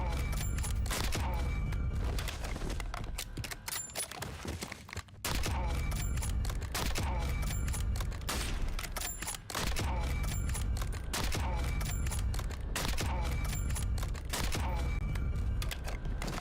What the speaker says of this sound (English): The headshot sound is certainly one of the more interesting sounds in COD